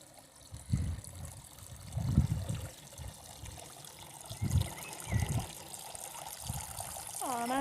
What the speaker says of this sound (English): Oh, nice water feature.